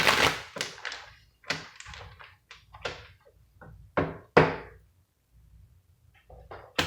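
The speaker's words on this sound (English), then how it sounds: "we gonna finish this reading with a couple more shuffles" Dry papery shuffling of tarot cards in short bursts, cards riffling and tapping with brief pauses between, close and fairly quiet.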